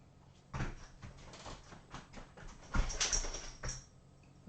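A puppy whimpering indoors: a series of soft, high, whining cries in short bursts over a few seconds, fairly close but quiet.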